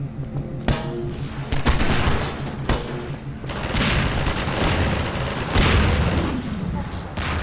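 Barrels exploding in the video game Synergy, a series of loud sharp booms and bursts amid gunfire, several blasts in quick succession followed by rumbling, with people talking over them.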